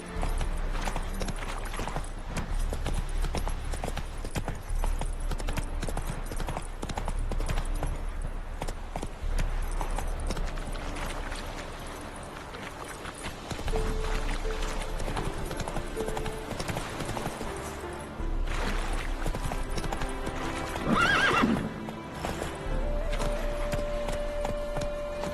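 Roach the horse's hoofbeats in The Witcher 3, a continuous rhythmic clip-clop of hooves running across ground for the whole stretch, with a brief whinny late on and game music and ambience underneath.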